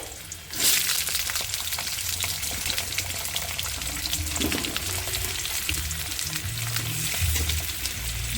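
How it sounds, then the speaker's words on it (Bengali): Potatoes dropped into hot oil with bay leaf and cumin set off a loud, steady sizzle that starts abruptly and hisses on throughout, with occasional stirring noises. "আমি আলুগুলো তেলের ওপরে দিয়ে দেবো দিয়ে ভেজে নেব"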